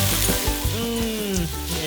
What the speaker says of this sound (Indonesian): tumis dulu bawang merah, bawang putih, dan berbagai bumbu lainnya